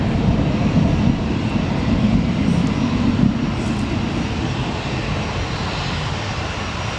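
A TUI airliner flying near Newcastle Airport gives a loud, continuous jet roar that holds steady and fades slightly toward the end. There is no talking over it.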